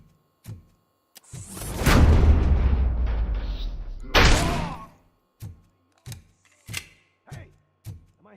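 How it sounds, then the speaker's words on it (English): Gunfire in the RoboCop video game: a long, loud burst of rapid shots followed by a second burst, then a string of single heavy thuds spaced out over several seconds. "Hey, am I hearing gunshots?"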